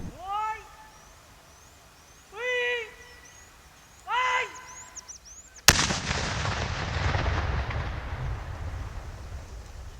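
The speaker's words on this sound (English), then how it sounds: "The mine is then detonated from a safe distance." A landmine is detonated from a safe distance, a single sudden blast followed by a long, rumbling roar that slowly fades, after several cat-like meowing calls that come before it.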